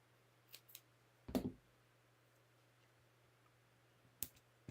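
Scissors cut a sheet of paper in half, a few sharp close snips and a crisp slice, with long quiet gaps between them.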